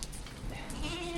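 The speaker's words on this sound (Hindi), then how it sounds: "बकरियां आ गई देख लो बारिश में" Goats bleating in the rain in the Boh Valley of Kangra, Himachal, a couple of short nearby bleats over a soft background of rainfall.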